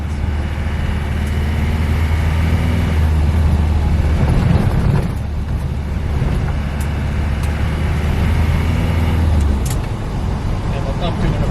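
A 1990 Land Rover Defender 110 with the 200tdi diesel engine drives through hard clutch-dropped gear changes, its engine droning loud and steady with rising and falling revs and no clunks.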